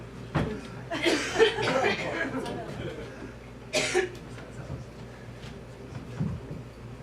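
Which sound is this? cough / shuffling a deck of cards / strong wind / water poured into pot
cough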